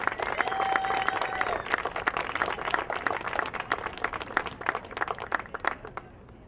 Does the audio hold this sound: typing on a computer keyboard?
no